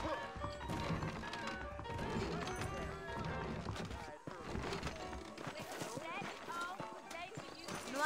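Horse hooves clip-clop in the Western video game Red Dead Redemption, steady and moderately close beneath a busy mix of music, voices and other game sounds that continues throughout.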